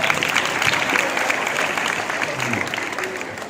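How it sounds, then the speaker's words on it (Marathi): Applause from an audience at a Police Raising Day guidance talk, with dense, steady clapping that sustains evenly throughout and carries some crowd voices mixed in. "तिच्यासाठी जोरदार टाळ्या वाजवूया आपण."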